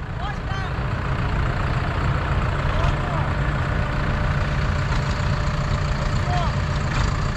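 A Massey Ferguson MF 135 tractor engine runs steadily at idle, a continuous low diesel rumble close by with a constant throb, while people talk over it.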